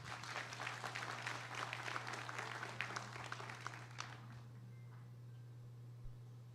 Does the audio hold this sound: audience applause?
yes